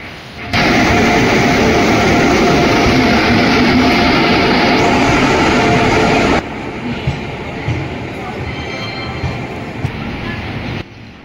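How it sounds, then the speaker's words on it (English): A passenger train pulls into a platform at Agra Cantt railway station in India. A loud, steady rumble of wheels and carriages rolls close by, then drops to a quieter station hum with faint clanks. "our train is arriving at platform number 3 of Agra Kent railway station"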